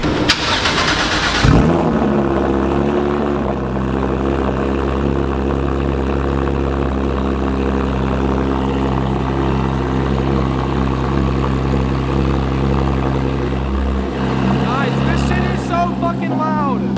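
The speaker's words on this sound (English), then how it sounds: "you guys let me know in the comments if you think the car sounds good" A car engine cranks and catches with a loud burst, then settles into a steady, heavy idle that drones on close by, with a voice briefly heard near the end.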